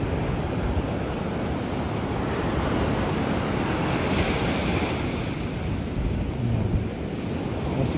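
Continuous roar of ocean surf breaking on the shore, loud and steady, with wind rushing across the microphone.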